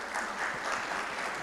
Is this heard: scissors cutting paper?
no